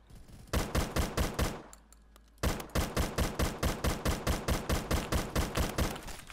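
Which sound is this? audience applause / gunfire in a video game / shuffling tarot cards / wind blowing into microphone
gunfire in a video game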